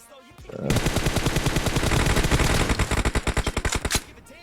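Rapid automatic gunfire from a video game team deathmatch in a 2v2 match, a sustained loud burst of dense shots that breaks into separate staccato rounds before cutting off.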